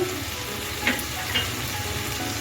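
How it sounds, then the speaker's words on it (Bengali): Ingredients frying in a pan with salt and toasted coconut, giving a steady, fairly loud sizzle and crackle with a couple of faint utensil scrapes. "তিরিশ সেকেন্ডের মতো ভেজে নিচ্ছি"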